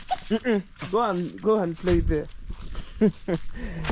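Bruno the dog gives short, high, wavering whimpers and yelps in quick bursts, close to the mic, while a person talks over them.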